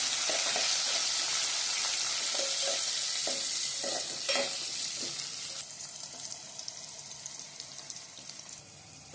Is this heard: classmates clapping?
no